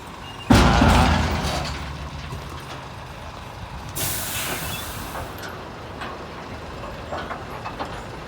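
Ten-wheel dump truck hauling a dragged chain to level railway ballast stone at a double-track rail construction site: a loud air-brake hiss at the start, rumbling engine and gravel scraping, then a second hiss midway, moderately near.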